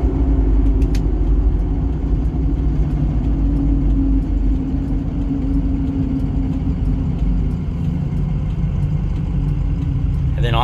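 The 6.0L diesel engine of a 2006 Ford F350 King Ranch 4wd idles nearby in a steady, low, smooth rumble that continues without pause.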